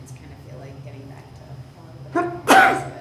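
A single sharp sneeze bursts out near the end at a school board of education committee meeting, preceded by a short sniff, while a person keeps talking underneath.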